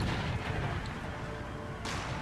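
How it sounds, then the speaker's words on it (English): Cannon fire in the video game Empire: Total War, a battlefield scene with a dull low boom followed by a sharper burst of noise near the end, over a constant rumbling background. "I have been managing to avoid most of my cannon shots, but one just got a couple of horses there."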